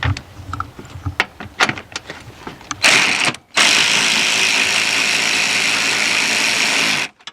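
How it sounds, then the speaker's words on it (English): Cordless ratchet spinning a nut off during a Jeep Compass/Patriot headlamp replacement: scattered clicks and taps at first, then a loud, steady mechanical whir that runs for about four seconds before stopping abruptly. "this is a good idea to get yourself a cordless ratchet"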